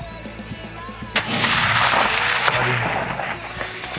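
A single sharp rifle shot cracks out toward a 304-metre target outdoors, followed by a long rolling echo that fades over several seconds; a faint voice is heard briefly.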